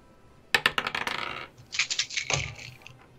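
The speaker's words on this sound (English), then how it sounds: "That's a lot of dice I hear rolling." A handful of dice tumble and clatter during a tabletop game, a quick burst of sharp clicks and rattles that settles, then a softer shuffling noise follows; no one speaks.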